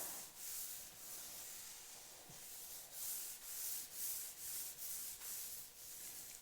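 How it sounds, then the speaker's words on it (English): A tack rag wipes lightly across an airbrushed leather saddlebag, giving soft, rhythmic rubbing swishes about once a second, close but quiet, with no talking. "wipe this down with a tack rag"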